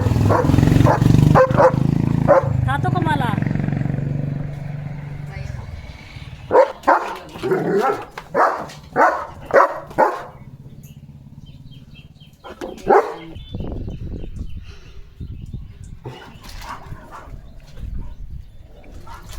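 A German Shepherd barks loudly and repeatedly, in irregular bursts of deep, forceful barks spread through the stretch, some quick and clustered, others spaced apart.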